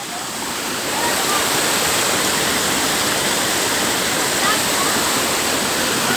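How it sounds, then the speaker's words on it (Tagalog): A waterfall at Parasapas roars as a steady, dense rush of falling water, close and loud, swelling slightly after the first second and then holding constant throughout. "Nasa falls na."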